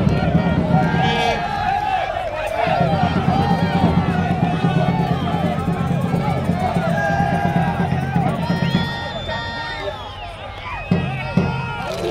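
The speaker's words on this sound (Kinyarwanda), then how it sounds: "abakunzi ba Rayon n'amashyi menshi cyane" Rayon Sports football fans clapping for the team, a dense, steady wash of applause and crowd hubbub with cheering that swells and dips across the stretch.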